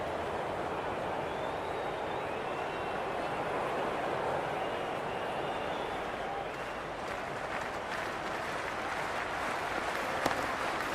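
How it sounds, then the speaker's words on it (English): Spectators at a Big Bash T20 cricket match between Hobart Hurricanes and Melbourne Stars keep up a loud, sustained roar of cheering and applause, a dense wash of crowd noise with a sharp clap standing out near the end. "There's a buzz, a real buzz coming from the stands."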